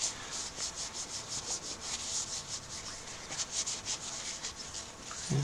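A cloth rubs rhythmically over a wooden tobacco pipe being restored and hand-buffed to a shine, a quiet close-up series of brisk swishing strokes with no voices.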